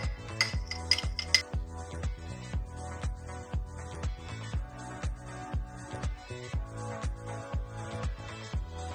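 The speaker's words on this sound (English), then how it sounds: "take a fork and just whisk and just move and just mix it up" Egg wash for a calzone whisked with a fork, a quick regular clinking and tapping of metal against a bowl, close and continuous with no talking.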